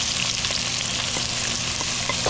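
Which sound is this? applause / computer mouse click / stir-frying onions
stir-frying onions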